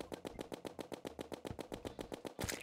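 Rapid, evenly spaced gunfire from a Terraria game fires in a steady, machine-gun-like rhythm of about six shots per second, loud and unbroken for the whole stretch.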